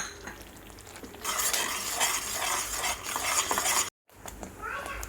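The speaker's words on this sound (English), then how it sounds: "let's go ahead and add our ground coconut flakes and the till powder and give it a good mix" Ground coconut flakes and til powder are stirred in a pan, giving a brisk scraping, rustling mix with light clinks and a soft sizzle for a few seconds, then a short break and quieter stirring.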